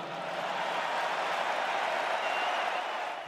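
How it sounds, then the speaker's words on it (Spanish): A studio audience on a morning talk show breaks into steady, moderately distant applause that holds at an even level throughout, with no talk over it. "¿Escuchan el aplauso?"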